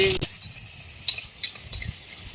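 Whole shallots, green chili and garlic dropped into hot oil in a pan for a dried anchovy curry, a soft sizzle with a sharp initial hiss followed by gentle stirring clinks, close and fairly quiet.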